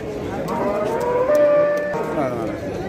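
A cow moos with a long, drawn-out call amid a busy outdoor livestock market in Bostanliq district, with crowds of livestock and people talking in the background.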